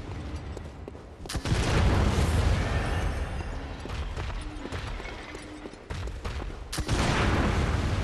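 Enemy gunfire in Bloodborne, inside the Pthumeru Root Chalice dungeon: sharp gunshot cracks and booming blasts over a dense, noisy rumble of game combat.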